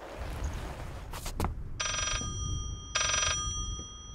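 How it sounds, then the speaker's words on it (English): A telephone rings inside the horror video game Layers of Fear, sounding two separate bursts of bright electronic ringing, loud and close, after some faint scraping and rustling noises. "Oh, there's a phone."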